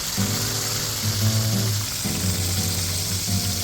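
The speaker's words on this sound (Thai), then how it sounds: "น้ำมันร้อนแล้วก็ทอดก้างกับหัวมันก่อนนะครับ้าย ทอดธรรมดานะทอดให้กรอบเลยนะครับ" Snakehead fish bones and head frying in hot oil give a steady, close crackling sizzle throughout, with a sustained tonal hum underneath, and no one speaks.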